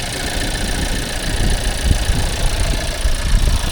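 Four-cylinder turbo engine of a 2022 Volkswagen Taos idling, a steady low rumble with an even hum, loud and close, running alone with no talk.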